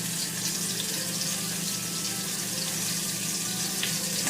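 Beef seasoned with Uncle Chris spice searing in a roaster for caldo de res, a steady, even sizzle and hiss running unbroken at close range with no talking.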